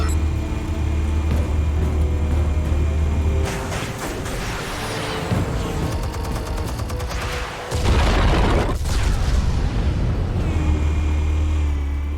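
Explosives detonate in Batman Telltale: a loud, sustained rumbling roar of blasts and debris swells over a steady low drone, with a heavier boom partway through.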